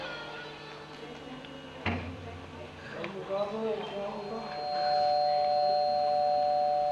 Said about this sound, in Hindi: अरे घंटी बजी, पापा आए होंगे।